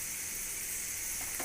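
Potato and pumpkin with garam masala, coriander and turmeric powders frying in a pan, a steady close sizzle and hiss throughout, with a faint stir near the end.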